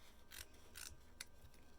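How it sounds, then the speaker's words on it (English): Scissors trim the edge of paper for a handmade craft card, giving four crisp, close snips spaced about a third of a second apart in a quiet room with no talking. "I'm going to trim this on the edge here."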